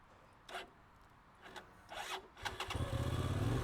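A Hyosung GT650R V-twin motorcycle engine turns over with a few short scraping, cranking bursts, then catches and settles into a loud, throbbing idle close by, with no talking.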